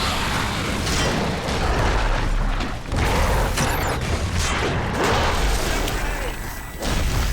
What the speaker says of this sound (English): Time for a skip grenade.